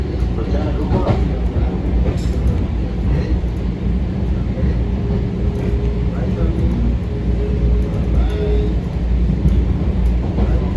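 A Metro-North Harlem Line M7 electric train rolls along with a steady, loud rumble and faint rail clatter from inside the car, while an automated announcement voice speaks over the noise.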